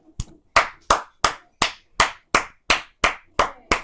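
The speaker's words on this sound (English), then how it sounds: "Why are you clapping?" Hands clapping in a steady rhythm, about ten sharp, close claps evenly spaced roughly every third of a second, loud and clear with short decays and no talking.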